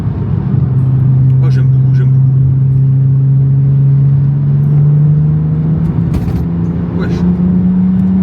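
A BMW 330d F30 inline diesel with a full straight-pipe exhaust pulls hard with a loud, continuous deep drone that climbs in pitch as it accelerates, while someone speaks briefly over the roar.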